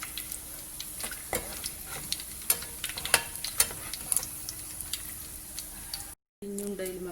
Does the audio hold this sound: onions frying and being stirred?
yes